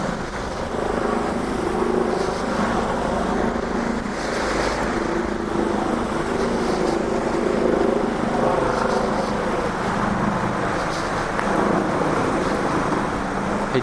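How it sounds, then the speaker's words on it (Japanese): Helicopter flying over the Yushin Valley gorge, a steady, distant rotor drone that holds for the whole stretch, mixed with outdoor wind rumble and no talk. "ヘリコプター"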